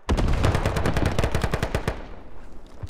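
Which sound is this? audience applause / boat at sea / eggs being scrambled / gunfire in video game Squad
gunfire in video game Squad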